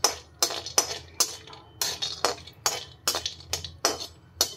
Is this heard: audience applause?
no